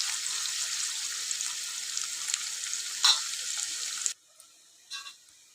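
Onions fry in a pan, giving a steady hiss and sizzle that cuts off abruptly near the end, followed by a short, faint burst of sizzle.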